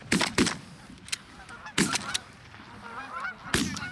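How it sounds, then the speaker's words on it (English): Geese honk in a flock on a late-season goose hunt, several loud nearby calls arriving in bursts between fainter honks in the background. "we had a nice flock of geese come in"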